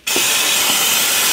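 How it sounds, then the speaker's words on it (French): Brake cleaner sprayed from an aerosol can over the radiator area of a Peugeot 207, a steady, loud, close hiss starting abruptly and continuing unbroken. "J'y vais au nettoyant frein."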